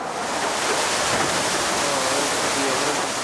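Water spilling over the edge of a weir-style waterfall installation in gusting wind, a steady, dense rushing wash that stays constant and fairly loud throughout.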